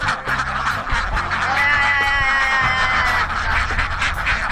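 Many ducks quack continuously on an open-field duck farm, a dense, loud chorus of overlapping calls with no talking.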